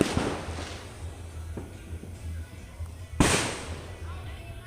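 New Year fireworks and firecrackers bursting: a dense rumble of distant explosions runs throughout, a few faint pops stand out, and one sharp, loud crack lands near the end. Someone talks over it.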